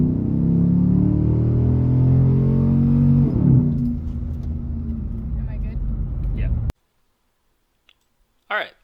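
A car with a 4.7-liter engine pulls away and accelerates from a standstill to about 25 mph, its loud low rumble climbing steadily for nearly seven seconds before cutting off, followed by a couple of faint clicks.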